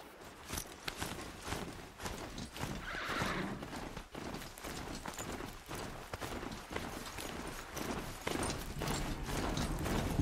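Horse hooves clip-clopping steadily on hard ground in Horizon Zero Dawn, with a short whinny early on, fairly faint amid background ambience.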